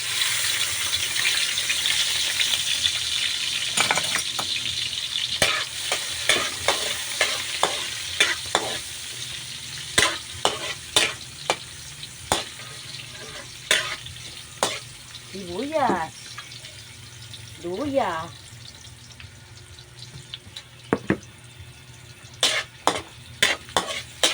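Onions sizzle in a pan for crab in coconut milk, a steady frying hiss with repeated sharp clacks of a spatula stirring, while a voice talks briefly in the background.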